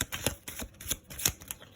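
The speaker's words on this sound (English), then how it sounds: "That looked like a genuine shuffle" A deck of playing cards given a rapid false shuffle, with quick crisp riffling snaps and flutters in a steady burst of close, sharp clicks lasting under two seconds, with no talking.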